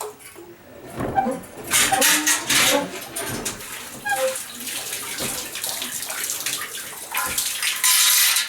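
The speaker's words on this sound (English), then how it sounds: "So it's nice, fresh, cold well water" Cold, fresh well water runs from a tap at a dacha, splashing loudly and unevenly close by with gurgles and surges over several seconds, no voices.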